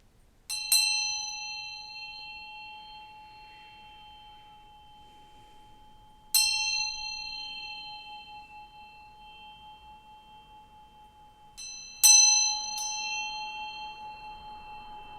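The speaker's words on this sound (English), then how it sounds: "I'm going to ring this bell, so adjust the volume if you need to" A handheld bell struck three times, each ring bright and sustained with a long decaying tone, spaced several seconds apart, loud and close with no talking.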